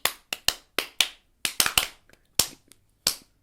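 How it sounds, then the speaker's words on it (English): A short run of sharp, dry claps, around ten quick hand strikes in an uneven burst, close and fairly loud with no talking, before a card game first look. "So we'll do a little start clap."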